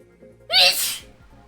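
A single loud, close sneeze bursts out sharply over quiet room tone, with low background hum before and after.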